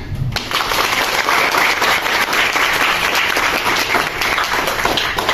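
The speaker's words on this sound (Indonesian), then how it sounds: "Berikan tepuk tangannya." Audience applause at a provincial high-school German-language olympiad closing ceremony: dense, loud clapping from a sizeable crowd bursts in after a brief pause and holds steady throughout, with faint voices mixed in.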